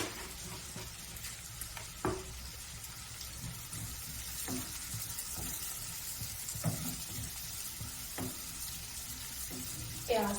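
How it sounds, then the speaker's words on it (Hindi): Onion and capsicum fry in oil in a pan, giving a steady close sizzle with occasional sharp clinks of a spoon stirring against the pan. "प्याज शिमला मिर्च भून चुका है।"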